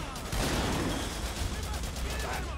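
Dense, continuous gunfire from the video game Haze, a sustained barrage of overlapping shots with faint voices mixed in underneath.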